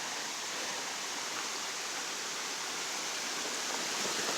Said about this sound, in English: There's a creek somewhere up here.